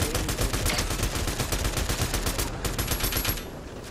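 Automatic gunfire in the video game Fortnite rattles in rapid, dense, continuous bursts. It is loud and close and tapers off at the end.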